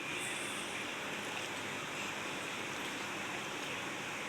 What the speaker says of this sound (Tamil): 2 கப் தண்ணி ஊற்றிக்கலாம்.